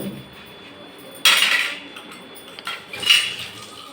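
Black tarnish is rubbed off brass pooja aarti lamps: two short bursts of scraping and metallic clinking, the first sharp and loud, the second a rougher cluster a moment later, over faint background hiss.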